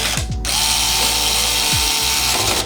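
A screwdriver turns screws into a white gaming PC case, giving a steady whirring, ratcheting mechanical buzz that runs almost continuously for a couple of seconds, close and fairly loud, with no speech.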